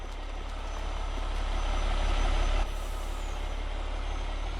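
Heavy farm truck in Farming Simulator 22 offloading sugar beets, a steady low engine rumble with broadband air hiss that swells, then cuts off sharply like an air-brake release, the engine continuing alone.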